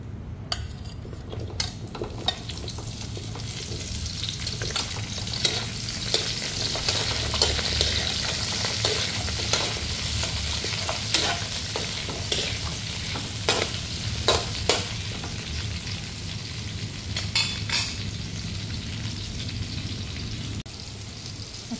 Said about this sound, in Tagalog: Nagigisa ako ng bawang sibuyas.